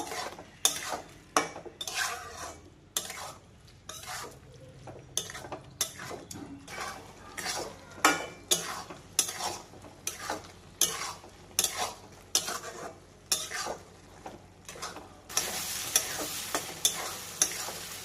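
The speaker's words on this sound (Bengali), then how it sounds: "মাছের সঙ্গে আমি মশলা খুব ভালোভাবে এবার কষিয়ে নেব।" Prawns frying in a pan with Kashmiri chili powder, spices and salt, stirred with steady repeated scraping strokes of a utensil over a constant sizzle that swells louder near the end.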